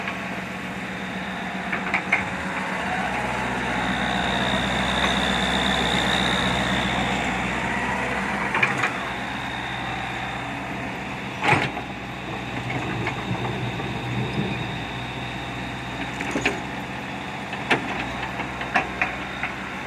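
A tractor engine rumbles while plowing soil, a steady mechanical drone that swells as it draws closer, with intermittent clanks and knocks of the plow working the ground.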